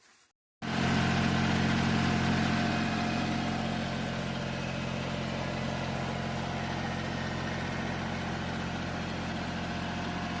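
A small tractor engine idles close by after a brief quiet start, a steady low rumble with a constant throb that holds evenly for about ten seconds, with no talk over it.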